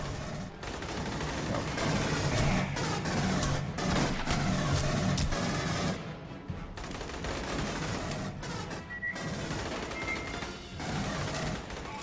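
Dense, steady gunfire from the Aliens: Colonial Marines video game, rapid automatic bursts with short pauses, loud and continuous across the span with no talk over it.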